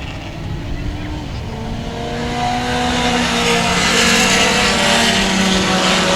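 Texas Pro Sedans race cars roar around the Central Texas Speedway track, engines loud and steadily building as the pack passes close, with tire noise and a commentator talking over it.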